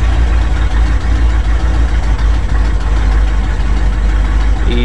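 A Ford FE V8 idles after a cold start on a 15-degree morning following two weeks of sitting, a steady low rumble running continuously and close without speech.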